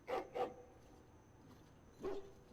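A dog barks in the fantasy role-playing game Dragon Age: Awakening, two quick barks in close succession, a pause, then a third bark, moderately loud and close against faint ambient game sound.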